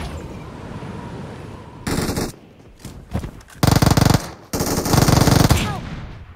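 Rapid bursts of automatic gunfire in PUBG Mobile, loud and close, in several sustained volleys separated by short quieter gaps.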